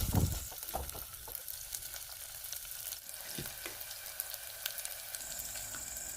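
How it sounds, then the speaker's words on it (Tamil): Garlic sautéing in hot oil: a steady frying sizzle, a soft crackling hiss with scattered pops, close by and continuous, with no talking. "நம்ம பூண்டும் சேர்த்து வதக்க போகிறோம்"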